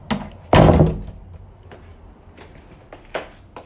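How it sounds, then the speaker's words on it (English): A door swings shut with one loud thud during a quiet bedtime scene at home, followed by faint creaks and small taps in a near-silent room. "Close the door."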